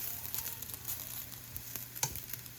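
Noodles for beef chow mein crisping in a hot pan, a soft, steady sizzle with light crackles and one brief louder knock near the end, no speech.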